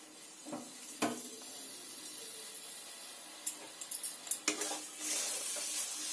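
Semolina and milk sweet stirred in a pan, with a soft sizzle under scraping strokes of a spoon and a few quick clinks against the pan near the end.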